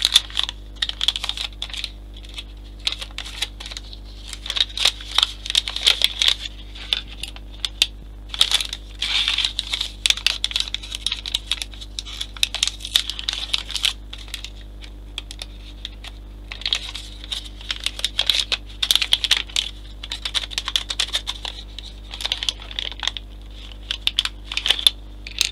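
Plastic model parts for a Titanic ship kit are unpacked in a long run of close, rapid crinkling, clicking and rustling bursts, with steady low hum underneath and brief lulls between handling.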